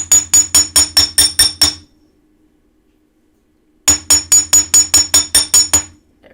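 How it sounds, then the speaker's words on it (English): Solder-twisted wire being hammered flat, struck in two bursts of about eight quick, evenly spaced metallic blows with a ringing clink, separated by a couple of seconds of silence; close and loud. "So I'm hammering it to about half of the thickness of what you started."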